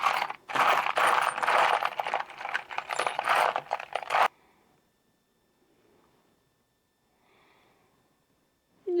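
Loose metal bolts clatter and jingle in rapid, dense bursts as a hand rummages through them in a Celica GT-SS V8 swap workshop, then the rattling stops abruptly, leaving near silence and a few faint clinks.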